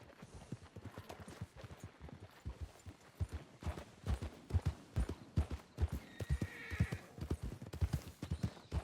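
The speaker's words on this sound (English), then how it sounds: "That's not a horse that's freaking out because of a predator." A horse in a Red Dead roleplay video game clip-clops in a steady hoof rhythm while whinnying and neighing as it bucks in place, with no talking over the sound.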